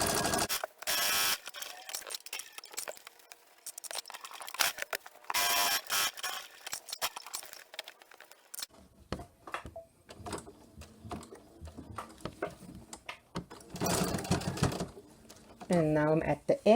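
A sewing machine run from a multi-function foot pedal stitches backward in bursts of rapid mechanical clatter, separated by quiet pauses and softer handling noises, up close.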